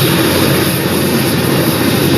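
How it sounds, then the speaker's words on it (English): Steady, loud rotor and engine roar from inside a helicopter in flight over Cambodia, constant and close with no other sounds. "So to see it, we went by helicopter."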